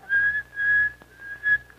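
A human voice mimics a whistling tea kettle, sustaining a high, steady whistle across about two seconds with brief dips and a final swell, close and clear with no talking.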